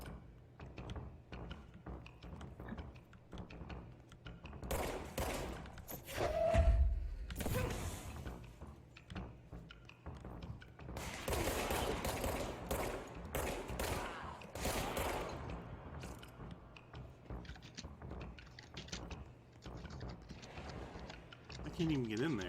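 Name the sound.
gunfire from enemies in the video game Control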